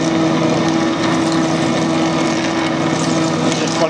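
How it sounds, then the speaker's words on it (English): A 22mm drill bores into a metal workpiece on a lathe, giving a steady, loud machining drone with a constant tonal hum and a rough, grinding texture throughout, with no talk. "This is a 22mm drill going in to get some of the thickness out."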